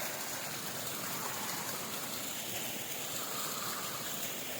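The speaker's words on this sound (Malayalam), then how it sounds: "നമ്മുടെ വീടിൻ്റെ താഴെയുള്ളൊരു ചെറിയ കുഞ്ഞു വെള്ളച്ചാട്ടത്തിലേക്കാണ് ഞാനിപ്പോൾ വന്നിരിക്കുന്നത്" A small waterfall below a house keeps up a steady, broad rush of flowing water, close and continuous, with no talking over it.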